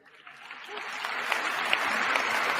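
Audience at a presidential inauguration breaking into applause, starting sparse and swelling into steady, sustained clapping from a large crowd.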